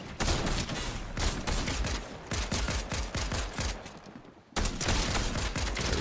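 Rapid bursts of gunfire from the video game Fortnite, loud and close, firing in quick repeated volleys with a brief gap before resuming.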